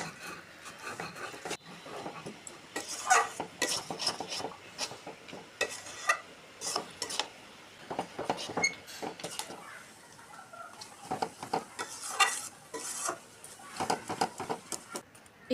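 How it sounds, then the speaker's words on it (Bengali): Tamarind pickle with mustard oil, mustard seeds, salt, turmeric, chilli powder and cane jaggery stirred in a pan, heard as repeated scraping and rubbing strokes of a spoon against the pan, close and uneven in rhythm, with no talk. "একটু নেড়েচেড়ে দিয়ে দিব আখের গুড়।"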